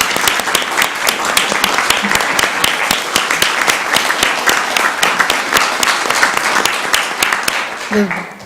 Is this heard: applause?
yes